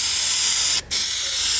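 Aerosol spray paint hisses steadily onto plastic car trim molding in light coats, one near, continuous burst broken by a brief pause before spraying resumes.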